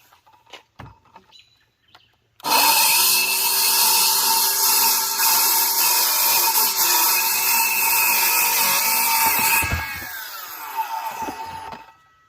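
A power saw cutting wood roars loud and steady for about seven seconds after a few handling knocks, then winds down and fades.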